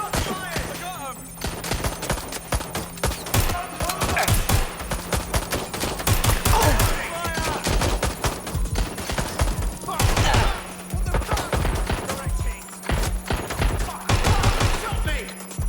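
Dense gunfire fills a Watch Dogs Legion firefight, with rapid overlapping bursts and single cracks firing almost nonstop, loud and close throughout.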